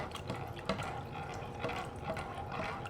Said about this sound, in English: So I'm gonna add the pasta water.